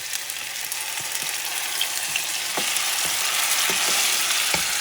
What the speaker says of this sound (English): I'm going to add some of my tomato sauce